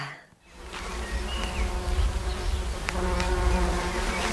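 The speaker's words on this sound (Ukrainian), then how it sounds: "Це що? Бджола? Це бджола? Це бджілка." Close, steady buzzing of a bee with a low drone, continuing without pause after a brief quiet start; no voices.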